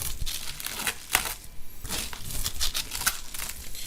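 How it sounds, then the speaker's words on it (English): Cling film is peeled and unwrapped from a circuit board package, giving close, irregular crinkling and crackling bursts with short tearing sounds, fairly quiet and with no talk. "it's just wrapped in cling film. So let's do that. Unwrap that."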